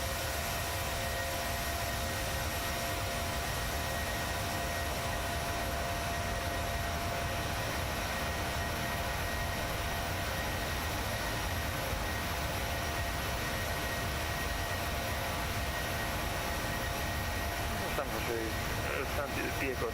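A PMDG Boeing 737-700 in Southwest livery departs in Microsoft Flight Simulator, giving a steady, loud broadband jet engine roar that holds throughout, with a radio-style voice speaking over it.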